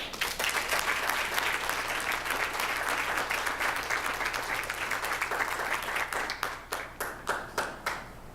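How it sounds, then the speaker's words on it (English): Sustained, fairly distant applause rises from an audience at a student award ceremony, thinning out toward the end into a handful of separate, sharp claps. "Let's give them all a round of applause."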